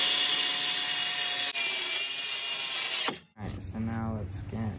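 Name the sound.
sawing wood for an RC car ramp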